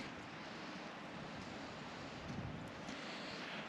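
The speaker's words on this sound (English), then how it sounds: "We're on the windward side of the mountain here, so the wind's coming from over Ashley's shoulder" Cold wind on the windward side of a mountaintop at Mount Nebo State Park, a steady broad roar buffeting the microphone with slight gusty swells, constant and fairly close throughout.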